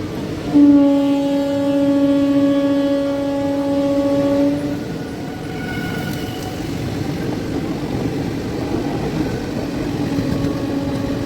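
A MEMU train with four locomotives arrives with a long, loud horn blast lasting a few seconds, then a steady rumble of rolling wheels carries on alone.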